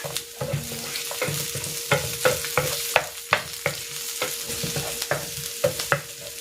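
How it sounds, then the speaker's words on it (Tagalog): Garlic and onion sautéing in a pan for chicken estofado, a steady close sizzle broken by rhythmic clinks and scrapes of a spatula stirring, with no talking. "Magigisa na ako ng bawang. Ng sibuyas."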